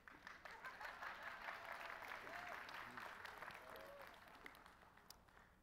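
An audience applauding at an executive director's speech at a professional conference: sustained, even clapping from a crowd heard at a distance and fairly faint, with a voice speaking over it.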